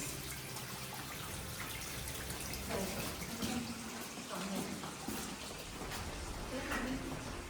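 Water flows and splashes steadily in the background while people talk quietly over it.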